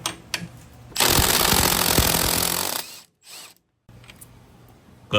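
A power impact tool on a crashed Suzuki GSX-R 750 motorcycle, loosening the connecting arm bolt in one loud rattling burst of about two seconds, followed by a short second burst and quieter clicks.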